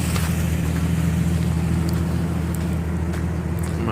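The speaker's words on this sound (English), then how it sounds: "My vehicle's warming up." A loaded truck hauling a trailer of concrete forms idles while warming up, a steady low rumbling drone held close and even throughout, with faint scattered clicks, no talking.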